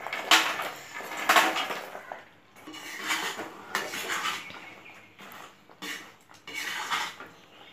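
Fried maida khurma pieces tipped into a pan of sugar syrup, giving repeated clattering and scraping of a utensil against the metal pan in uneven bursts, close and fairly loud.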